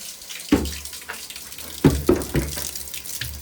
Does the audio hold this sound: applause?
no